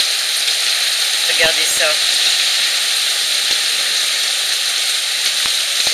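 Dense hail from a violent storm in the Var, France, rattles and hisses steadily on surfaces, a constant loud patter, while a person briefly speaks in French over the din.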